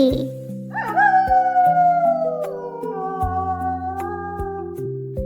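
A jackal howling as a sound effect, long rising then sliding wavering cries over a background music track, loud and close.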